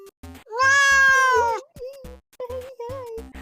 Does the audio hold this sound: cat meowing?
yes